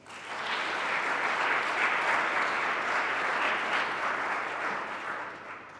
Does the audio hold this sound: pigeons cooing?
no